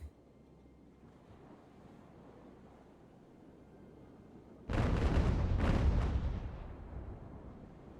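Sailing warships fire their cannons in Ultimate Admiral: Age of War. Loud, heavy booming volleys burst out over steady sea-and-wind ambience, then roll off into a fading rumble, with no voices.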